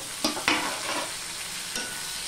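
Potatoes frying in a pan as ginger paste and chopped tomatoes go in, a dense close sizzle broken by a few clattering spatula stirs and scrapes.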